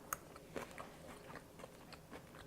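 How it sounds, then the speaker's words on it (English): A bite into a low-carb buffalo chicken frittata with hot sauce, chicken and crunchy celery, heard as faint, close chewing and soft crunching with a few small snaps. "So let me go in here and just take a bite."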